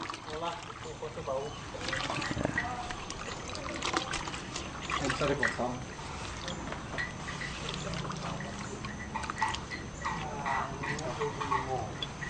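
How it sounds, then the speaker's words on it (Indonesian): Water trickles and splashes as it is poured into a solution for making organic fertilizer, a steady liquid dribble under nearby voices talking outdoors. "Untuk masukkan air"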